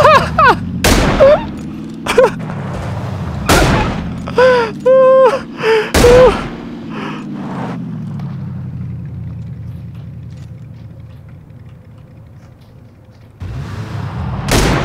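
In the battle royale video game PUBG (Battlegrounds), several sharp gunshots crack out loud and close, spaced a second or more apart, with a vehicle engine droning underneath and voices reacting between the shots.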